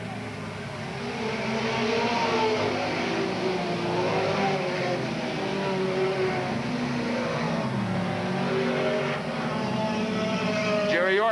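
Race cars drone continuously around the Willamette Speedway track, engines loud and sustained with occasional revving as car number 70 pushes forward through the pack, a voice faintly audible over the engine noise.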